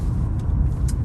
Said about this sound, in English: we might be getting more tire noise too